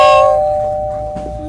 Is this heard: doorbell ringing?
yes